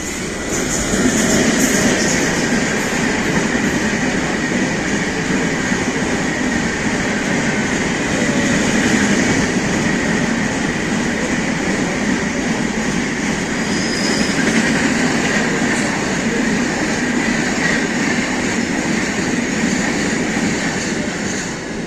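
Passenger train running at night from Chennai Central toward Arakkonam, heard from on board as a continuous loud rumble with faint rail clatter and wind noise, steady the whole way through.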